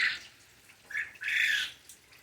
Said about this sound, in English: The quail are outside.